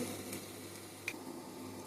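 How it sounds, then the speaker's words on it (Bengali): Chicken pieces shallow-frying in a pan over low heat for an afternoon snack, giving a steady soft sizzle throughout with one brief sharp tick near the middle, no voices. "চিকেনগুলো এখন ভেজে নিচ্ছি।"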